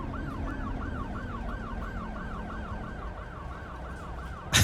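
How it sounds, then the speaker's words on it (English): A video game ambulance siren wails in a steady, rapid up-and-down cycle over a constant engine rumble, ending with a sudden loud burst; from the city-building game Cities: Skylines 2. "So many ambulances"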